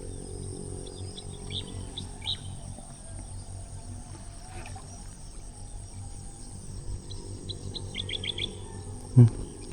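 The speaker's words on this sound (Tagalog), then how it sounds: "Kinakantahan tayo ng ibon." Several birds chirp and tweet in the open air at sunrise at a camping spot, scattered calls over a steady bed of crickets, with a few louder knocks near the end.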